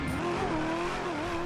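A car in GTA 5 roars with a loud, whining engine like an airplane turbine, a steady high drone with wavering pitch that continues without a break.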